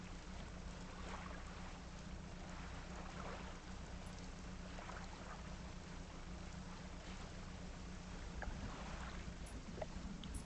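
A slow fishing boat chugs steadily across open water in the game DREDGE, a continuous low engine drone mixed with soft watery wash, even and unbroken throughout.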